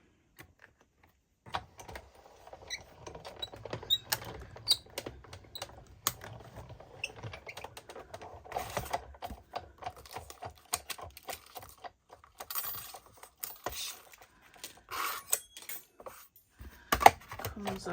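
A die cutting machine presses a die through paper at a small desk, making a scattered run of soft clicks, taps and rattles that grow busier and louder in places, with no talking.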